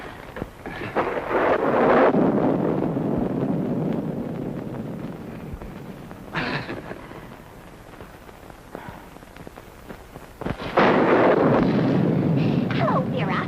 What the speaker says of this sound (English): I just couldn't let Georgie come out in this storm alone.